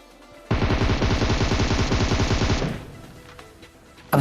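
Rapid automatic gunfire in a video game, a loud continuous burst of closely spaced shots lasting about two seconds, then fading into quieter game ambience with no talk.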